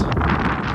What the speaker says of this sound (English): It's getting a bit windy, guys.